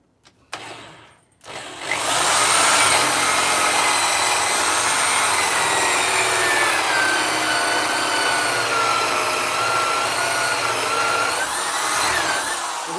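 A power drill whirs steadily and loudly for about eleven seconds after a brief start, a continuous grinding drone as the bit bores a hole through a wooden bird box.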